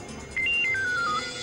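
An incoming call rings out as a mobile phone ringtone, a short descending melody of clear electronic tones played once over a busy background bed.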